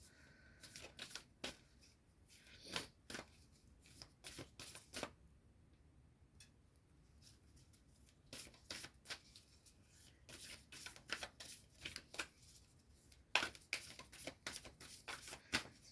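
Fairy oracle cards are shuffled by hand in soft, rapid riffling bursts, close but very quiet, separated by brief pauses.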